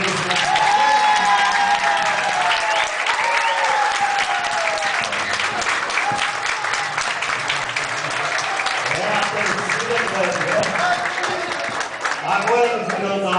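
A church congregation applauds at a wedding ceremony in Socorro, São Paulo. The clapping is sustained and dense, with some cheering and voices mixed in throughout.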